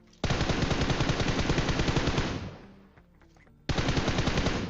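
Rapid automatic gunfire in a shooter video game, a loud sustained burst of shots for about two seconds that tails off, then a short gap before another dense burst starts abruptly.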